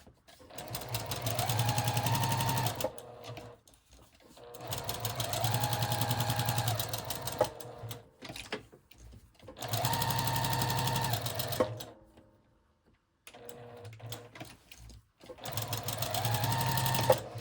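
A sewing machine stitches a fabric folio in several close bursts of steady rapid whirring, separated by short pauses with small clicks and handling noises.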